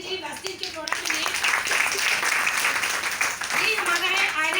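An audience claps loudly and steadily during a live product demo, a dense wash of applause lasting several seconds with a few shouted voices rising over it.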